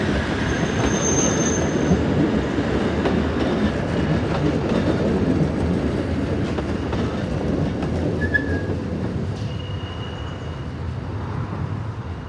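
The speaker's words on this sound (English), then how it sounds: "This is the line's terminus at Waldenburg, as unit number 16, with driving trailer from number 19, departs on the 26-minute journey to Liestal." An electric narrow-gauge Waldenburg railway unit with a driving trailer pulls away from the Waldenburg terminus, a steady close rumble of wheels and motors with brief high squeals, continuous and loud throughout.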